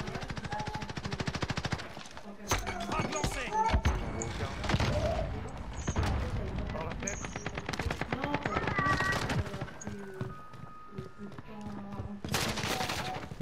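Rapid automatic gunfire in the battle royale shooter Call of Duty Warzone, long clattering bursts and fast shot trains running almost throughout, with game voices and effects layered in.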